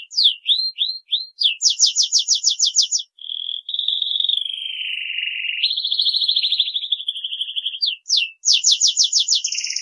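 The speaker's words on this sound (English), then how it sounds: "Canary bird." Canary singing a long varied song, close and clear: rapid repeated chirps and fast trills alternating with sustained warbling whistles, steady and loud throughout with only brief pauses.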